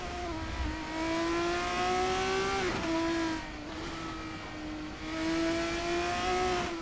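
A sim racing car engine in a racing video game roars steadily at high revs, its pitch climbing, briefly dropping and surging again as it accelerates, with no talking.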